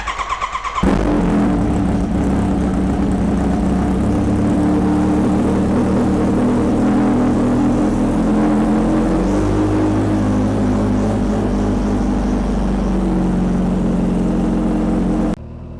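A Kawasaki H2R motorcycle engine fires up and runs with a loud, sustained roar close by, holding a steady powerful drone with slight shifts in pitch for around fifteen seconds before abruptly dropping off.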